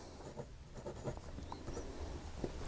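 A Wing Sung 6128 fountain pen nib writes on paper, giving a soft, close scratching with faint, irregular strokes at low level and no talk.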